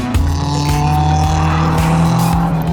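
The single overhead cam KA engine of a Nissan S180 accelerates hard from inside the car, giving a loud, continuous rising drone with gear changes and faint tire noise.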